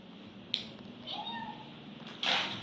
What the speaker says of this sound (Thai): ร้องเมียวเมียวเหมือนตาเป็นแมวเลย